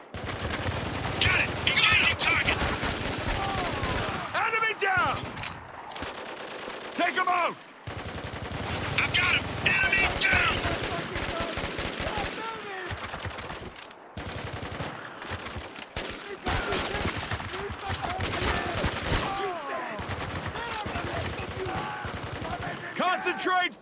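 Gunfire in Spec Ops: The Line during a desert firefight, dense automatic bursts and rattling volleys that come and go over about twenty seconds, with soldiers shouting now and then between shots.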